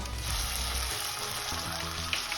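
Green chili and garlic paste sautéing with onions in a pan for masala stuffed idli makes a steady, close hiss and crackle of frying that stays even throughout, with no talking.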